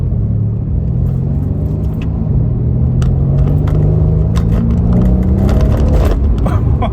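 Mercedes C63 AMG V8 rumbles close by while driving on Polish country lanes at light throttle, a deep, steady drone whose pitch rises gradually as it pulls, with faint rattles inside the car.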